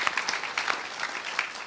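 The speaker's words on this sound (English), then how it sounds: "Round of applause" A short burst of audience applause at a property conference, brisk overlapping claps at moderate distance, steady for under two seconds with no speech over it.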